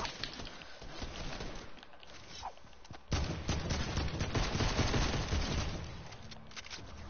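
SMG fire in Fortnite: a steady stream of rapid shots, softer at first and then louder and denser after a few seconds, continuing without a break.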